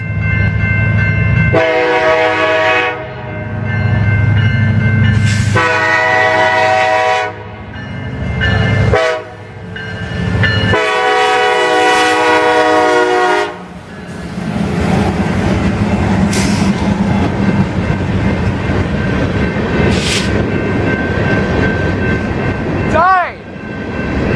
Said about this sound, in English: Next train was a regular BNSF coal on the BNSF Beardstown Subdivision.